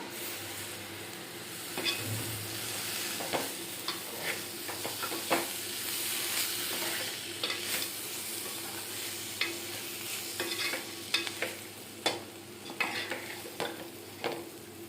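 Potatoes frying in a pan on a gas stove, a steady sizzle broken by repeated scraping and clinking strokes as they are stirred, close and moderately loud with no talk.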